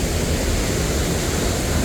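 A waterfall roars as a loud, steady, unbroken rush of water that fills the whole short stretch, with no voices.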